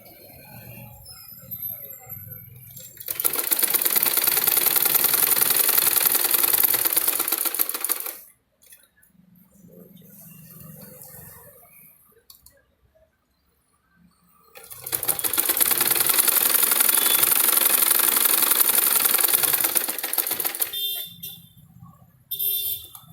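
A sewing machine stitching the neck of a dress runs in two long, steady, whirring bursts of several seconds each, with quiet pauses and faint handling noise between them.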